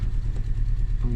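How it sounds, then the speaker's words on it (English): A Peugeot 207 engine with its management light on idles roughly in a low, uneven, close-up rumble for a brief moment, with a voice briefly overlapping near the end. "So that's the last time this engine will run that badly."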